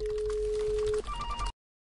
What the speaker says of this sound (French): Je vais essayer de l'appeler sur son portable personnel.